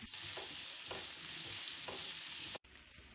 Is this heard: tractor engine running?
no